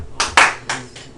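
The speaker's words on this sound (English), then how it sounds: "Your self high five is a clap." A few sharp hand claps ring out close by in an uneven rhythm, given as a self high five during a classroom math lesson.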